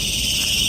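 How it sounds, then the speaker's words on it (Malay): Crickets chirping in a forest in the morning, a loud, steady high-pitched chorus droning continuously and close, with no voices over it. "Kamu boleh dengar bunyi cengkerik yang bising tuh."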